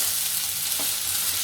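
Onions fry in a pan for paneer do pyaza, with a dense, steady sizzle close by and a faint stirring scrape partway through.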